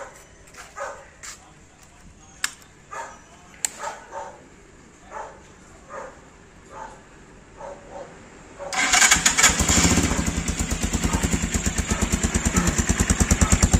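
Scattered barks and faint knocks are followed by a Gamma 200 motorcycle with a Yoshimura muffler starting, settling into a loud, steady, throbbing idle with a muffled, rhythmic pulse.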